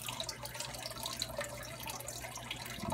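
Water trickles and flows steadily in a small DIY aquarium sump, a soft continuous splashing and dripping close by with a low background hum.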